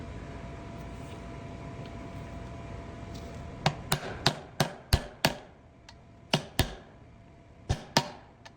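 A series of sharp metallic hammer taps on parts of a Camaro 9-bolt rear axle during reassembly, about a dozen irregular strikes in quick bursts, following a few seconds of quiet room noise.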